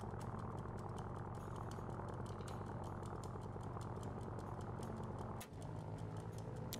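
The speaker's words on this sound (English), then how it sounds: "Hold E to throttle engine." A boat engine in the survival game Stranded Deep throttles with a steady, even mid-pitched hum and faint rattle. It briefly dips near the end before resuming at the same level.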